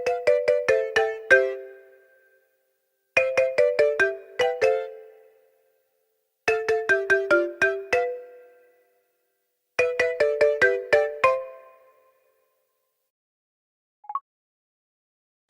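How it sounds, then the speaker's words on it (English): A Mizu ringtone plays four bursts of bright, rapid marimba-like notes at even intervals, each a quick cascading run that decays, followed by a short faint blip near the end; no one speaks. "Mizu ringtone."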